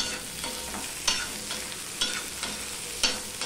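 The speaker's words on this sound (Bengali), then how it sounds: "আমি এখানে পাতলা পাতলা করে 2টো ছোট আলু কেটে দিয়েছি, সেটা আমি দিয়ে দিলাম।" Thin slices of small potatoes frying in a pan for a light bata fish curry, with a soft continuous sizzle and regular spoon scrapes roughly once a second, close and moderately quiet, no voices.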